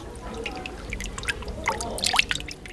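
Fabric gently worked by hand in a basin of natural dye water during traditional dyeing, giving soft close drips, trickles and small sloshes that rise near the end, with faint background murmur.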